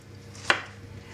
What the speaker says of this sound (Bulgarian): При мен са 4 тиквички, които ще си нарежим ето на такава големина.